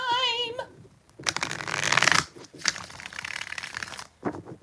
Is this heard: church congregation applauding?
no